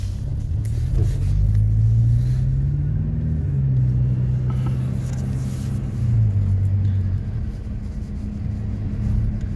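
An off-road jeep's engine runs with a deep, steady rumble close to the microphone, swelling slightly at moments without any speech.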